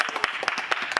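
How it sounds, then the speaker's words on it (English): Clapping for Grandmaster Anish Giri at the Meltwater Champions Chess Tour Finals, a brief run of sharp, evenly spaced claps, close and fairly loud, with no voices. "can we get a round of applause for Grandmaster Anish Giri?"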